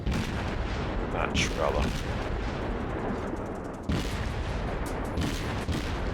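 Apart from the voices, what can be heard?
naval gunfire in World of Warships video game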